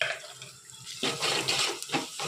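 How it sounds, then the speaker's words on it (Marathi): Water is poured from a small pot into a pan for pithla, Marathi gram-flour curry, starting about a second in as a loud, close, bright splashing stream that continues with uneven surges to the end. "आता पाणी सोडते त्याच्यामध्ये एक तांब्या."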